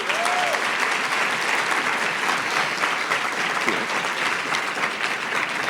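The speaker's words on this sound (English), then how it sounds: "so please give her a huge applause" Sustained audience applause at an event honoring an acting deputy director, a dense steady wash of many hands clapping at even loudness throughout, with no one speaking over it.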